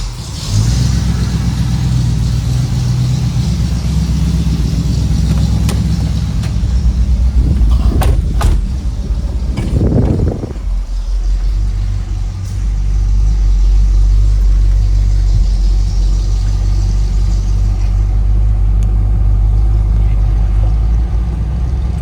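A 1985 Chevrolet K10 Silverado 4x4 pickup's engine rumbles steadily with a deep low drone while driving, revving briefly partway through before settling back into a steady cruising hum.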